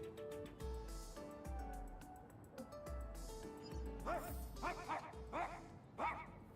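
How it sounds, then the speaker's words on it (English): A dog in the Honkai: Star Rail game barks several times in quick succession over a steady, rhythmic musical backing, the barks fairly faint and blended into the music. "That sounds like a dog."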